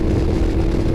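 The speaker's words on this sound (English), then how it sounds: "Look, you just twist the throttle a bit." A 2012 Ducati Diavel motorcycle engine revs as the throttle is twisted, a loud, close, steady low growl filling the whole moment.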